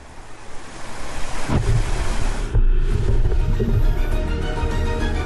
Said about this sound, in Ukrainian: Помірні хвилі м'яко б'ються об борт катера.